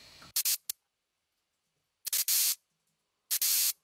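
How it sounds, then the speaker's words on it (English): Three bursts of bright hissing white noise effect in an electronic dance music drop, each a quick stutter of short blasts followed by a longer sustained swell, separated by silence. "White noise, very important."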